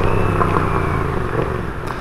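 A Yamaha MT-07 motorcycle rides through Typhoon Hagibis in Japan, its steady engine drone buried under a constant roar of heavy wind and rain, loud and unbroken throughout.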